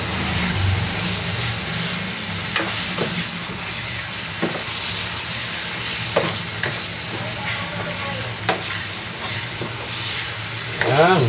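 Fried tofu is stirred in a pan with shrimp paste, sizzling steadily while a utensil scrapes and knocks now and then, with a louder clatter at the end.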